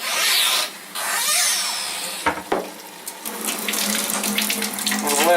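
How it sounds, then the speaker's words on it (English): Cold water runs steadily through a newly installed Level-Up K8 water ionizer set to ionize, a continuous close hiss of flowing water with a few brief knocks partway through. "we'll let it run just a minute since it's the very first water that came through the machine"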